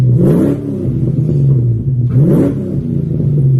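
Fox-body Ford Mustang with an all-original setup upgraded to a Magnaflow exhaust, revving twice in deep, throaty bursts that rise and fall over a steady rumbling idle, close and loud.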